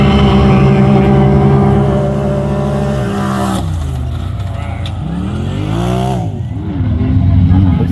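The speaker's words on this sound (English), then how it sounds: "Looks like Jared's racing the Can-Am." Side-by-side UTVs, a Can-Am among them, race at a county fair track, engines roaring loud and steady before pitch sweeps rise and fall as they rev and shift through the run, with crowd chatter and voices underneath.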